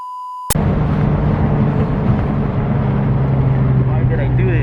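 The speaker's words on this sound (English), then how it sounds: "He just revved it." Turbocharged Nissan 350z with about 600 hp, a steady loud engine drone heard from inside the car after a sharp start, holding a low rumbling note throughout.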